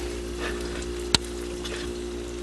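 Puff-puff dough fries in hot oil over medium heat with a continuous, close bubbling sizzle and one brief sharp click near the middle.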